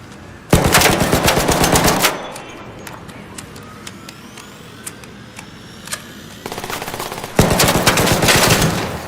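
Rapid automatic gunfire in a looter shooter video game, two loud sustained bursts near the start and end of the stretch, with scattered single shots and quieter game noise between them.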